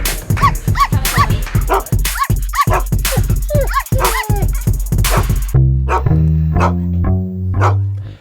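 People imitate dogs with a rapid series of loud yips and barks up close, then a short burst of upbeat music takes over.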